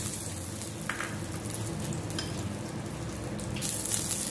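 Ghee melts in a hot pan for milk-dipped bread toast, a faint, steady crackle and sizzle running throughout with a few brighter spits.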